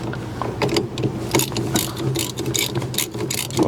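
A wrench ratchets against a bolt on a Montana fifth-wheel trailer, quick close clicking bursts in uneven rhythm, loud and alone without speech.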